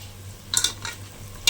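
Mushroom biryani masala being sautéed in a pan, with a couple of quick spoon scrapes and stirs over a faint sizzle, close and brief, and no talking.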